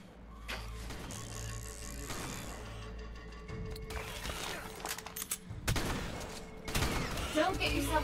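Shotguns fire in the video game ARK during a fight in a lava cave, with several sharp blasts spaced irregularly among clattering mechanical reload sounds and game noise, under intermittent talking.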